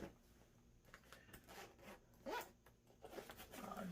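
Zippers on a fishing tackle survival bag are pulled open in several quick, close, rasping strokes over faint background noise, with no one speaking.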